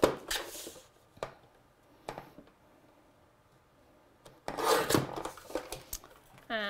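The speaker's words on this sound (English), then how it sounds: "I just have a card here, which I'm just going to trim down" Paper card trimmed for a stamping project, giving soft rasping cuts and a few sharp clicks from the trimmer, with a longer scraping pass near the end; quiet and close, no talking.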